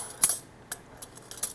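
A metal measuring spoon scoops and taps against a garlic powder container, a few sharp light clinks and scrapes spaced irregularly, close and crisp against near silence.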